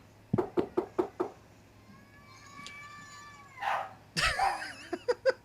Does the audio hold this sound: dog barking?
yes